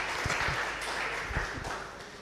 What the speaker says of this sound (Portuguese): Dá uma linda salva de palmas ao nosso Deus.